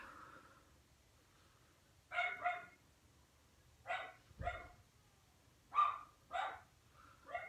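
Dogs bark nearby in short, loud bursts, usually in pairs, with brief pauses between them over a low background hum.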